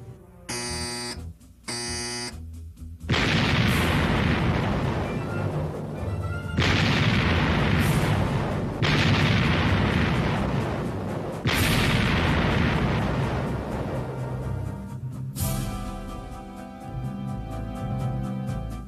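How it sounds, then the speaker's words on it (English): USS Missouri battleship turret guns firing a salvo, a few short buzzer tones followed by several huge, sustained booming blasts with long rumbling decay. "Turret one, all guns, one round load. Shoot."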